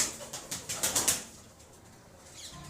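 Pigeons kept by a fancier in Baghpat, heard as a run of soft rhythmic flutters and wing flaps close by for about a second, then fading into quiet background hiss.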